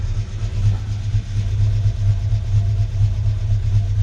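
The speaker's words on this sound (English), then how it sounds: "this is going to basically be the first time we've dipped the clutch" A barn find car's engine runs steadily at idle in a dark enclosed space, a loud continuous low rumble with a slight rhythmic pulse and no talking.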